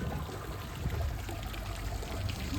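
Mountain water in Grindelwald, Switzerland, flowing beneath a wooden structure, with a steady rushing, pouring stream that stays close and constant throughout.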